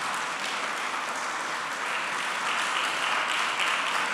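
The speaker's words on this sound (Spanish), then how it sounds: "Denle un aplauso." A church congregation applauds during a Spanish-language sermon, a steady, even wash of many hands clapping that carries on unbroken for about four seconds, fairly full in the room.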